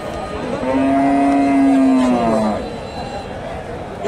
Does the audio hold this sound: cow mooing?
yes